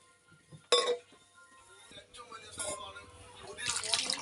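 Water poured into a pot of chopped sambar vegetables, opening with a sharp clink of vessel on pot, then a rising, splashy pour that grows louder toward the end.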